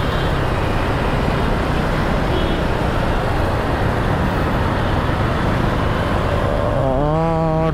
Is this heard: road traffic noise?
yes